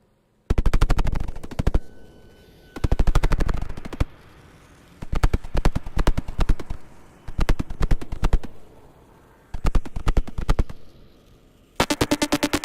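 A Stillson Hammer MKII sequencer plays a burst step, firing rapid machine-gun-like ratchets of sharp clicks in repeated bursts with short gaps between them, loud and close, with no talk.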